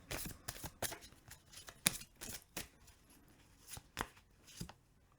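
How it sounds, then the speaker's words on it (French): Oracle cards drawn and shuffled by hand, a string of crisp papery riffles and slaps in irregular bursts, close and fairly quiet with no talking. "je vais prendre 3 cartes"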